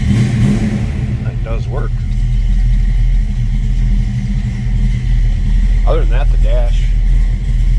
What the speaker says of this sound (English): So let's go ahead and fire this up. Let's hear it run.